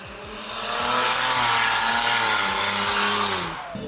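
A turbocharged Toyota Supra engine with a T78 turbo, fitted in a Mercedes body, revs hard and climbs in pitch in one loud, sustained rising roar.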